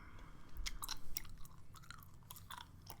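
Close, quiet gum chewing for ASMR, with wet smacking and clicking mouth sounds in an irregular rhythm and no talking.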